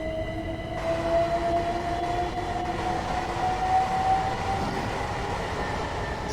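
In Train Sim World 2, a London commuter train pulls into a station with a steady rumbling roll and a faintly rising whine held throughout, moderately loud and continuous, no voices.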